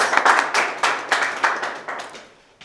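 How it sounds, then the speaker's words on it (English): A classroom audience applauds a student speaker in a lecture hall: a short burst of clapping that swells quickly, pulses in waves and then fades away over about two seconds. "Give him a huge round of applause."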